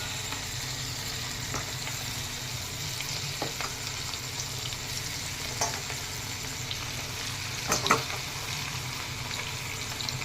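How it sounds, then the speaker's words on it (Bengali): Chicken pakora frying in hot oil: a steady, dense sizzle with scattered sharp pops and crackles, close and continuous, and no voices. "বানাচ্ছি চিকেন পকোড়া"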